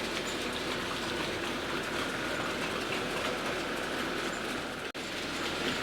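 Four model train locomotives run on a DC analogue layout, a continuous close rolling rumble with a fine clickety-clack from the track and one brief sharp click.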